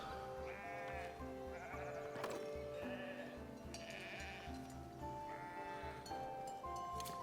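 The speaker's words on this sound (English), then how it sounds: "We've got the sheep hanging out in the field." Sheep grazing in an open field bleat repeatedly, several overlapping calls rising and falling at a moderate distance over a soft, steady outdoor background.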